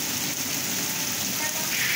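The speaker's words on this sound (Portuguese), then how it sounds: "muita chuva em Sobral" Heavy rain falling in Sobral, Ceará, a dense continuous hiss of downpour on surfaces, loud and steady throughout with no voices.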